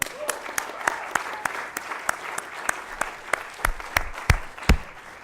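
Applause rings out at a Nasdaq opening bell ceremony for a company IPO, with sharp individual claps standing out over a softer crowd patter and occasional voices underneath.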